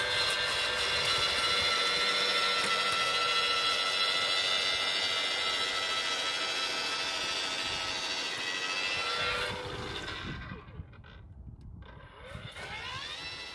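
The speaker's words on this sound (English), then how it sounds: "this Ryobi battery-powered 40-volt auger is absolutely awesome" A Ryobi 40-volt battery-powered auger bores a hole in the ground for a mailbox post, giving a loud, steady motor whine that holds for about nine seconds before it slows and sputters as it stops.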